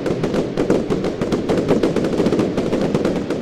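Fireworks going off in the Roblox game Lumber Tycoon 2: a rapid, dense barrage of crackling pops and bursts rattling continuously like machine-gun fire, loud and without talk.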